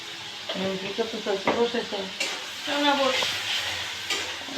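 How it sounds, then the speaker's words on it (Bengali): Chickpeas fry in a pan with a steady, close sizzling hiss, while voices talk over it. "চনা বুট ভাজতে বসাই দিয়েছি"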